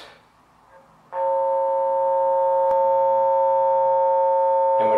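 A buried line locator device switches on after a second of quiet and emits a steady, loud electronic tone that holds unbroken, with a faint click partway through and a brief shift near the end.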